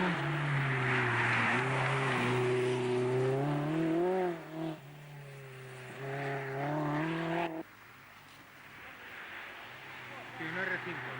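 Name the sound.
turbocharged rally car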